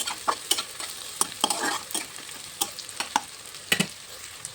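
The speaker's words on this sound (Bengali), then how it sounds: "আদা রসুন পেঁয়াজ ভাজা হয়ে গিয়েছে।" Chopped ginger, garlic and onion fry in a pan under a soft sizzle, punctuated by repeated sharp spatula scrapes and stirring strokes at an irregular rhythm, close and fairly loud.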